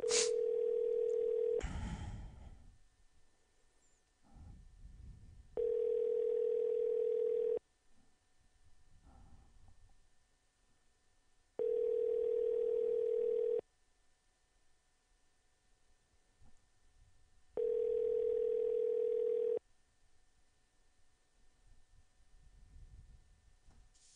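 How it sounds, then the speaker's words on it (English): Ringback tone from a telephone call to a number, heard as four long, steady electronic buzzes of about two seconds each, spaced roughly six seconds apart, loud and clear with only faint room noise between them and no talking. "let's call him up on this number. See if he picks up here"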